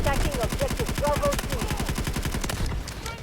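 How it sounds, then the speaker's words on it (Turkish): Rapid bursts of automatic gunfire in the video game Delta Force, a loud, close, evenly spaced stream of shots that runs for most of the moment before cutting off near the end. "Şuradan bir mermiler geliyor"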